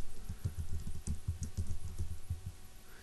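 Keys clatter steadily on a computer keyboard while text is entered for a web contact form layout, a close run of quick taps at an even rhythm with no voices.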